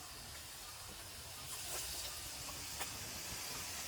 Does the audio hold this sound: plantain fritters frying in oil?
yes